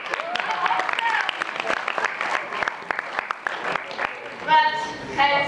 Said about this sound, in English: you can give yourself a clap here